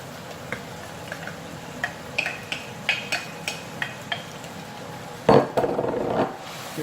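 A spoon clinks and taps at a steady pace against a pan of browned mince and vegetables. A louder scraping burst comes near the end, close up, with no voices.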